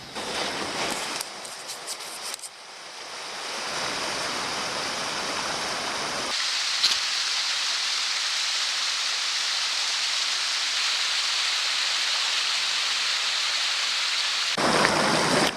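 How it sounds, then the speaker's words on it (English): A large waterfall in Cape Chignecto Provincial Park pours in a steady broadband roar that swells and holds loud and continuous, with a few brief shifts early on and no talking. "Oh, big ass waterfall."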